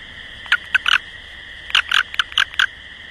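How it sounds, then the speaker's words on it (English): Release call of a male American toad, picked up from a road, given as short bursts of rapid chirping trills in two clusters, close and clear against a quiet background. "This little guy right here is the old American toad."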